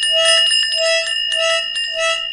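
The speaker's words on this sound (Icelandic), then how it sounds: "Hann næri bjöllu og hjólaflautu" A small bell rings in bright repeated bursts, a bicycle horn among them, loud, close and alone, each ringing round pausing briefly before the next.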